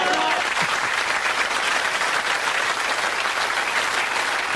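Studio audience applause fills a BBC Christmas outtakes show, a dense, steady roar of many clapping hands that holds at full strength throughout.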